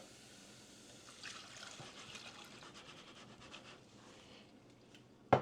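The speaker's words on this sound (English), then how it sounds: "now I'm going to go ahead and add the broth in" Broth poured into a pot of sweated-down vegetables, a soft trickling splash building gently for several seconds, faint and close, ending with a brief louder knock.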